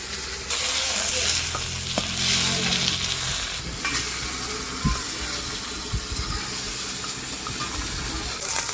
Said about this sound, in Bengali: এই যে মাথাটা সুন্দর করে ভাজেছি।